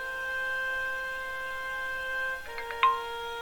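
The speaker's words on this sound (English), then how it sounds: "Oh, it even does like a little chime thing." A phone chime in the point-and-click adventure game Broken Sword 5: The Serpent's Curse: a short cluster of bright, rising tones that sounds near the end, over a steady background of game music.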